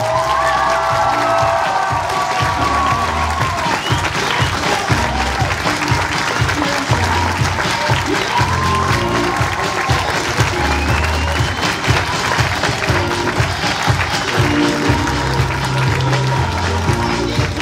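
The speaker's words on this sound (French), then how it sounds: "Applaudissements s'il vous plaît pour tout le comité qui est là" An audience at the Miss 15-17 national election applauds the committee with steady, dense clapping and some cheering that fills the whole stretch, with faint voices underneath.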